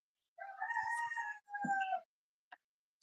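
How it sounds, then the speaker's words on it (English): A rooster crows once, a loud, clear call split into two long drawn-out phrases, followed by a couple of short faint ticks in an otherwise quiet setting. "the rooster crowing"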